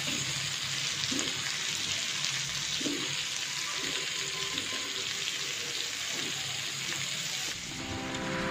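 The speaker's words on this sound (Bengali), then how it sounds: "মিষ্টি কুমড়ো ভাজবো বললাম।" Sweet pumpkin frying in a pan on a home stove, a steady close sizzle running throughout with occasional soft stirring scrapes, and the sound thins out near the end.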